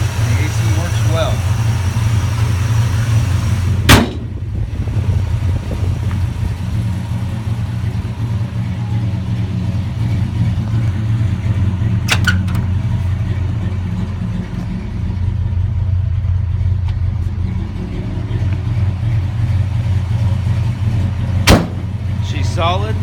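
A 1957 Chevrolet 3100 pickup with a 265 V8 and upgraded heads idles in a steady low rumble, with a few sharp thumps like doors closing and someone talking over the engine.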